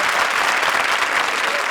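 Studio audience at the Comedy Circus television comedy show gives Urvashi dense, loud, sustained applause, with constant overlapping clapping and no pauses.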